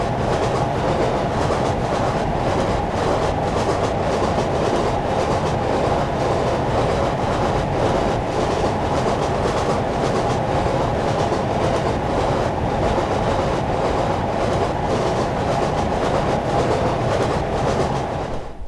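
DRS diesel locomotive 47802, built in 1966 as D1950, hauls a train along the Wherry Lines, its steady engine drone joined by continuous rail rumble and wheel clatter, heard close and loud throughout with no talking.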